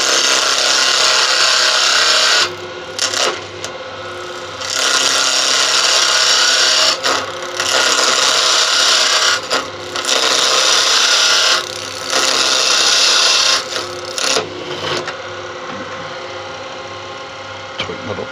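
A carbide wood turning tool plunges into spinning wood on a lathe, loud harsh scraping and shearing in repeated bursts of a couple of seconds each, separated by brief pauses, close and dominant.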